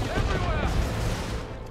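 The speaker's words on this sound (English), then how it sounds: "Now here comes the high explosive grenades, getting some good hits there." Grenade blasts in the strategy game Dawn of War 2, a dense, continuous barrage of booming explosions and gunfire-like cracks under loud battle noise across the short stretch.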